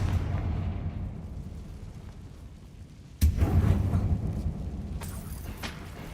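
Confringo spell blast in a Harry Potter game inside an abandoned mine, a sudden loud booming burst halfway through over a low rumbling ambience, with a smaller crackle following, no talk.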